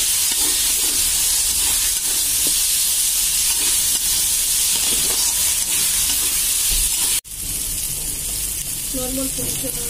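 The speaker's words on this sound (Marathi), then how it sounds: "आपण यामध्ये आता टोमॅटो ऍड केलेला आहे आणि हे छान फ्राय करून घ्यायचं आहे" Tomato frying with brinjal in a pan, a loud, continuous sizzle and hiss with faint stirring scrapes underneath, broken by a brief drop partway through.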